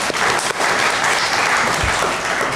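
A room of attendees at a monthly club meeting applauds, dense and steady clapping filling the short moment at full loudness.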